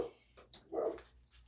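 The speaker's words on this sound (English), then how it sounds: "She's my barker. She likes to bark a lot." A dog outdoors gives a few short, faint barks and yips at irregular intervals, some distance away, with no talk.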